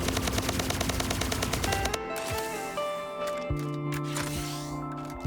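Rapid gunfire from a close-range special weapon in the video game Splitgate, a dense burst of shots filling the first two seconds before giving way to tonal game effects.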